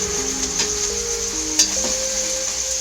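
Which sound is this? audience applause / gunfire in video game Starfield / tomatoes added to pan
tomatoes added to pan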